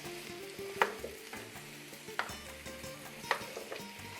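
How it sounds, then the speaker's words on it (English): Ground garlic mixture being stirred and sautéed in a pan, a steady sizzle broken by a few sharp spoon scrapes and clinks against the pan, close and moderately loud, with no talking. "So now we're gonna mix it all up."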